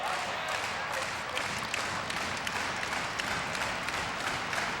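A crowd at a men's volleyball game claps and cheers steadily, a fairly faint, sustained wash of applause with sharp scattered claps throughout, heard from a distance.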